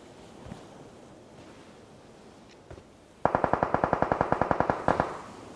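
Automatic gunfire spraying in an esports shooter game, a sudden rapid burst of about fifteen evenly spaced loud shots after a few seconds of wind-like ambient hiss.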